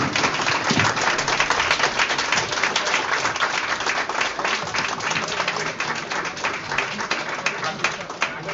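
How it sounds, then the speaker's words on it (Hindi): Loud, dense applause from a convention audience at an inaugural ceremony in Dahod, Gujarat, continuous clapping that fills the whole stretch without a break, with some voices mixed in underneath. "आप लोग जोरदार तालियां बजाएं"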